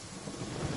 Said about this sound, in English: Lightning storm!